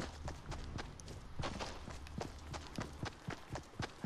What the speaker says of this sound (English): Does anybody else hear the footsteps?